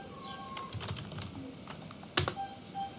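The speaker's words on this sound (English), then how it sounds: "I'm gonna type in the name of the valid Wi-Fi here" A computer keyboard clicks in a short, uneven run of taps close to the microphone, and one sharper, louder keystroke lands near the end.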